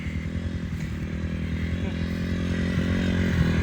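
A Yamaha Timberwolf 250 ATV engine runs in first gear, a steady mid-pitched motor drone that builds slightly in loudness, with a voice speaking over it.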